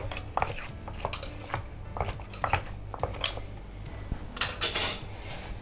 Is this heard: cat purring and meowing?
no